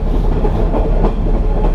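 The Savannahlander tourist train clatters along the rails through rainforest, a loud, steady rumble with rhythmic wheel clacks close by.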